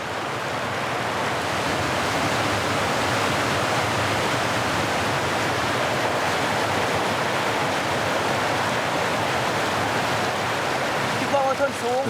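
Rapids on the Mekong River in Vietnam roar in a dense, steady rush of water that stays loud and unbroken throughout, with faint voices at the very end.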